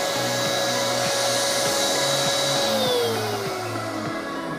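A Paint Zoom electric paint sprayer runs with a loud, steady whirring motor drone and a high whine under a fast pulsing rhythm. Its pitch sags slightly toward the end.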